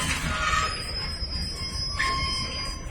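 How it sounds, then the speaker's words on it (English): Several westbound freight trains roll through the Kinney yard junction at the Montview connector, a steady rumble of rail cars with faint wheel squeal rising briefly, heard from trackside at moderate distance. "I've never seen this many trains come through all at once."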